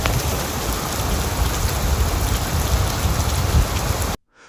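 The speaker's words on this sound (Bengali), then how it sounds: "কিছু বোঝার আগেই ঝমঝম করে বৃষ্টি নামল।" Heavy rain pours down in a dense, unbroken hiss of drops striking the ground, loud and steady for about four seconds before cutting off abruptly.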